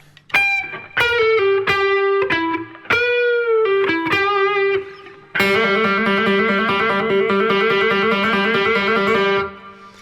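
A distorted electric guitar plays a short lick of bent and sustained notes, then hits a thick, ringing chord that holds before cutting off.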